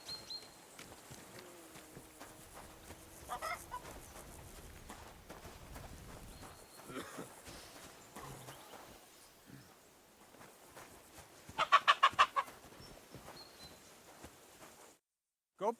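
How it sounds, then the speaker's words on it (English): Horses at a fortress in Kingdom Come: Deliverance II clop faintly on hard ground with soft footstep-like hoof knocks and rustling in a quiet medieval soundscape, followed by a brief burst of sharper clatter before it falls silent. "Lovely horses you have here."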